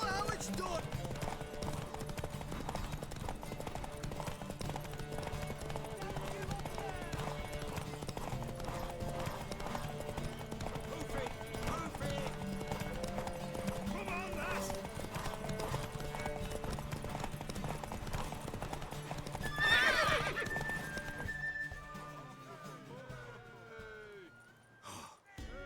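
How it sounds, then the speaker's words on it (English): Horse hooves clip-clop steadily through a scene in The Witcher 3, with a short neigh-like burst near the end, under talk and music. "Worthy of the best horse. The mare is yours."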